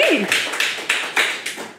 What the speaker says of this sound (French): Fait qu'on l'applaudit.